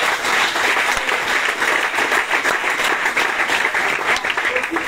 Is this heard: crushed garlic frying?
no